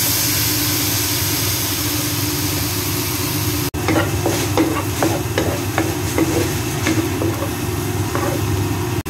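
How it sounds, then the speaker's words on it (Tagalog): Beetroot fried rice with white rice, green peas, carrot, ham, eggs, onion and garlic is stir-fried in a pan, with loud continuous sizzling, then a run of close scraping stirs and clatters from about the midpoint, heard alone. "Gawa nga pala ako guys ng sinangag na may beetroot."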